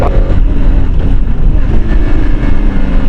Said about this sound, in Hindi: झटका नहीं ले रही गाड़ी, बट क्या हो रहा है कि गियर शिफ्ट हो रहा है